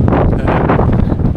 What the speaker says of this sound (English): it is really windy, so I'm not sure how much is going to come out on this video when we're talking